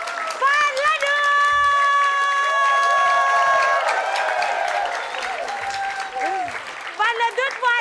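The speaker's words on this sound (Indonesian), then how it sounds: "Kita kasih tepuk tangan sekali lagi" An audience at a live Indonesian comedy show applauds in a steady, full burst for several seconds, with voices and musical tones mixed over it before the clapping thins out.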